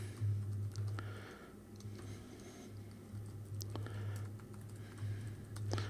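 Keys tapped on a computer keyboard while a file name is entered, a quiet run of soft irregular clicks over a steady low hum, with short pauses between bursts.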